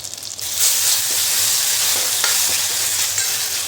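Finely chopped garlic with cumin sizzles and fries steadily in hot oil in a pan, a close, continuous crackle with occasional stirring scrapes, no talking.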